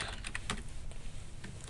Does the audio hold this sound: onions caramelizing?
no